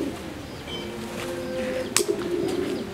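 Pigeons or doves kept in a bird enclosure in Yogyakarta coo in low, steady, throaty tones, with a brief bright chirp partway through, fairly close and with no speech.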